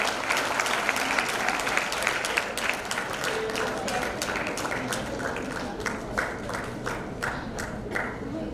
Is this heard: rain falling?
no